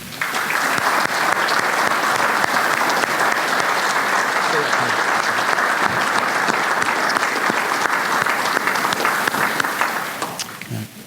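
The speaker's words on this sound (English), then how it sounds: "If we could have a round of applause" An audience at a fire department award ceremony claps in sustained, loud applause for about ten seconds before it tapers off.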